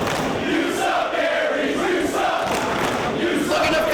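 A professional wrestling arena crowd roars continuously at a Ring of Honor match, a dense, loud wall of cheering and shouting with no breaks.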